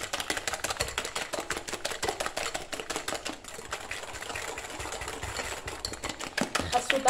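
Batter with sugar and vanilla sugar being whisked by hand in a bowl for an apple pound cake, a fast, steady run of rapid clicking strokes against the bowl, continuing throughout.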